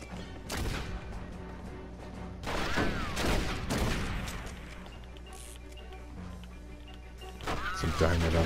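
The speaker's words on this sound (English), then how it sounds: "Where the hell am I getting shot from?" Gunfire in the Western shooter Red Dead Revolver rings out in several loud bursts and single cracks, with pauses between volleys and echoing booms.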